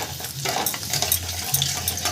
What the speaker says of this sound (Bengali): রসুনটাকে আমি একটু হালকা করে ভাজা ভাজা করে নেব